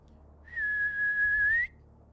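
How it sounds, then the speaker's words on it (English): A single sustained whistle, one clear steady note lasting about a second, sounds from somewhere behind the listener, fairly distinct against a quiet background. "You're going to hear a whistle behind you."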